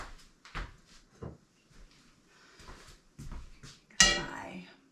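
A black skillet is handled in a home kitchen: soft knocks and clatters of cookware being moved, then a sharper metallic clank and ringing scrape near the end, close and fairly quiet.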